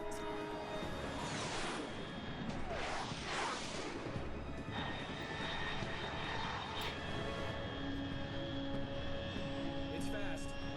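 A high-altitude jet aircraft passing overhead in the video game Metal Gear Solid 3: Snake Eater, a steady, roaring engine drone that swells and sweeps in pitch and holds at a moderate level.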